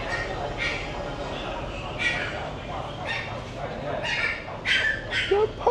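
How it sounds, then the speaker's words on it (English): Puppies yip and whimper in short high bursts, several of them close by, at a motorbike rental place in Da Nang, Vietnam, over a steady background hum with people talking nearby. "Oh, there are puppies."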